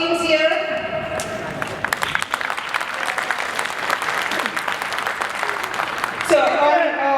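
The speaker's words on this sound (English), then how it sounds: "So let's give a big round of applause to all the teams here." Applause from an audience at an Onam celebration, steady dense clapping filling the hall for several seconds, with voices heard at the start and end.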